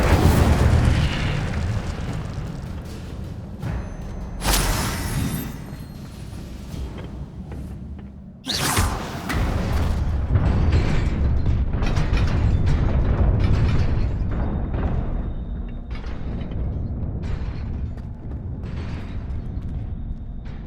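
In the video game Hogwarts Legacy, an Incendio fire spell bursts with a booming, roaring blast that swells into a dense rumble, a second sharp burst striking partway through, loud and sustained across the whole stretch.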